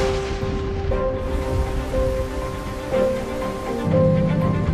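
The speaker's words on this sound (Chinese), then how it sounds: "怎么现在就下雨了？不是说晚上吗？" Rain falls steadily as a broad, continuous hiss of moderate loudness, with faint tonal sounds running through it.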